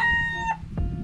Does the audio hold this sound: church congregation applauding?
no